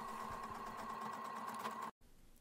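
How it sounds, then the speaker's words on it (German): A sewing machine stitching a seam through layered fabric pieces, a steady close mechanical whir with a rapid regular needle rhythm that runs continuously and then stops abruptly, with no talk over it. "Nun nähst du auf dieser Linie die Teile aufeinander."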